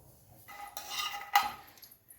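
A spoon scrapes cooked masala out of a pan into a mixer jar while a stuffed bitter gourd dish is made: two short, quiet metallic scraping strokes in a still room.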